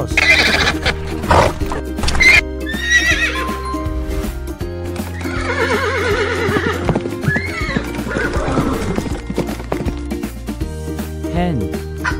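Several horse whinnies and neighs ring out over a dense, busy background with hoof clip-clop and other mixed animal noise, fairly loud and close throughout.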